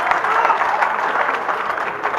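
Applause from a crowd at a Haryanvi Hindi comedy poetry recital, a dense, steady patter of many hands clapping throughout, fairly close and even in loudness.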